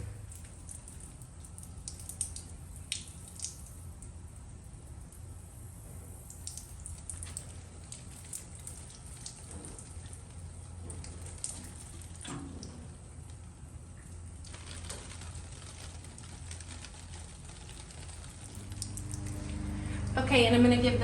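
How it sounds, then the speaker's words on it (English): A garden watering can being filled with water: steady running and splashing water that keeps on for about twenty seconds, growing louder and fuller near the end. "let me go fill up the watering can and get these watered in"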